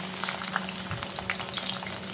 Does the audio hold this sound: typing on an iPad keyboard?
no